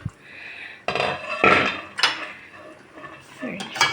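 A spoon clinks and scrapes against the sides of a pot of fig jam with lemon powder stirred in, giving several close, irregular metallic knocks and rattles.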